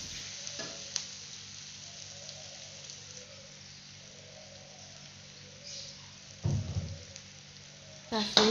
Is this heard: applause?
no